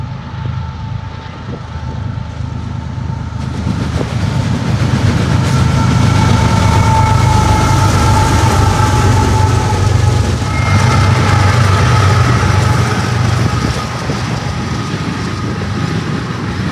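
A CSX freight train led by locomotive 1776 rolls past at Wellsboro. Its loud, close rumble builds, holds a steady heavy roar of engine and wheels with tonal whine, then eases slightly near the end, with no voices.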